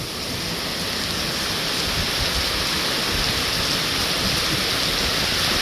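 Heavy rain pours down in a rural Thai village, a dense, even roar of water hitting surfaces that holds steady and loud throughout, with no voices.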